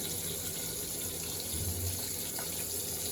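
Chicken pieces coated in masala fry in oil with a steady, dense, close sizzle that runs on without a break and has no talking over it.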